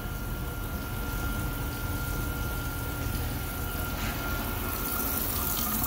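Cold tap water runs steadily into a sink to rinse a freshly dyed anodized part at an anodizing station, a constant close hiss and gush with no talking.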